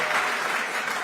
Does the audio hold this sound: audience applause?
yes